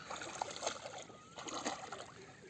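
Water splashing and sloshing nearby as people dive for oysters on the Konkan coast, irregular bursts of splatter with faint voices in the background.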